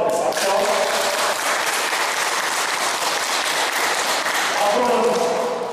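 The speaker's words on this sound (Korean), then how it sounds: "박수 한번 드릴게요. 박수." Listeners at a Buddhist monk's dharma lecture assembly clap together in a full, steady burst for several seconds. A speaking voice can be heard at the start and again as the clapping fades.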